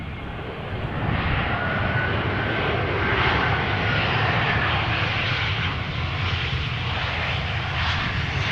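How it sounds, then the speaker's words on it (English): A 17-year-old TAP Air Portugal Airbus A320 arriving from Lisbon at Amsterdam Schiphol roars close and loud, a broad, steady jet engine rush with a faint whine, holding constant throughout without voices. "Next up is Top Air Portugal flight 676 arriving from Lisbon. This A320 has been flying for 2 hours and 21 minutes"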